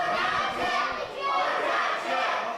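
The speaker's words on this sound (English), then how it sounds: "the crowd is behind Jake Dirden" A fight event crowd roars and cheers continuously, a dense wash of many voices swelling and surging throughout, loud and close with no separate speech.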